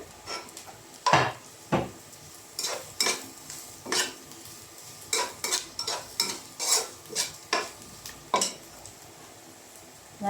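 Upma ingredients sauté in a pan while a spoon scrapes and clinks against the metal in quick, repeated strokes over a faint sizzle, close and clear with no talking.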